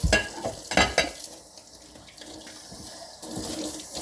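Dishes rinsed under a running kitchen tap, with water splashing and clattering in bursts at the start and end and a softer steady flow between, close by and with no talking.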